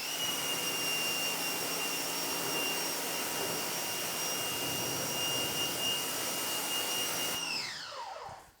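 Pressure washer rinsing a car, a steady loud spraying hiss with a high whine from the pump that runs without pause, then spins down and cuts off at the end.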